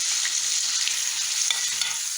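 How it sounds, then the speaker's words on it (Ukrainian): Grated potato mixture frying in a pan, a steady bright sizzle running throughout with a few soft stirring scrapes, close and continuous with no voices. "бачите, колір міняє, піджарюється"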